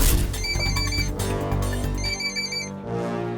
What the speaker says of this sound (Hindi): वहां मुझे एक फोन आया।